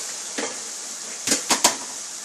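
A spoon stirring food in a pot over a soft background sizzle, with a few distinct scraping clinks, three of them bunched close together near the end.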